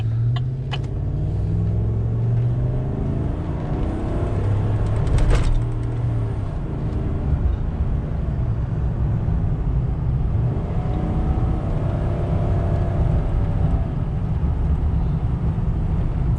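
A 2019–2020 Chevrolet Silverado 5.3L pickup with a Flowmaster 40 Series exhaust rumbles deep and loud, a throaty low burble holding steady with slight swells and no talking.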